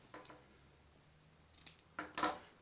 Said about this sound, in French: On coupe.